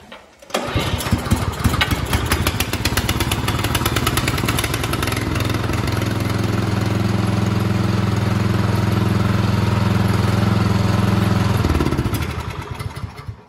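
A Cub Cadet 2X28 two-stage snow thrower engine catches after a pull-cord start and runs at a steady, loud, close roar for about eleven seconds before cutting off, with no talking.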